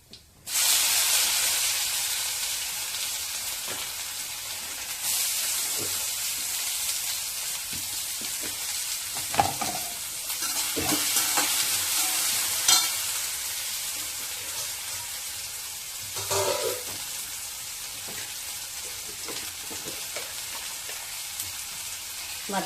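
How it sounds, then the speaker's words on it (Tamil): Chopped onions hit hot oil in a pan for a beetroot side dish, a sudden loud hiss that settles into steady sizzling, with occasional scrapes and stirring knocks. "வெங்காயம் கட் பண்ணி வச்சுருக்கேன், அதில் போட்டுக்கலாம்"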